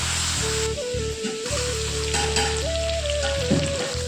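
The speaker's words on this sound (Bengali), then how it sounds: "তো দেখো প্রথমে দিয়ে দিলাম রসুন বাটা আর দিয়ে দেবো পেঁয়াজ বাটা।" Garlic and onion paste sizzles steadily in hot oil in a pan while chicken is being cooked, a loud, continuous frying hiss with a steady tone running underneath and no voices.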